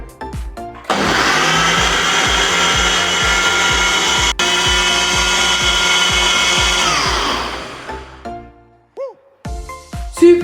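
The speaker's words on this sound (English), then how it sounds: "we're going to put it into the blender again" A blender whirs loudly for several seconds blending an Oreo milkshake, a steady high-pitched motor whine, then winds down and stops, followed by a few light clinks.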